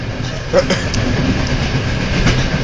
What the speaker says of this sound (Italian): siamo sul treno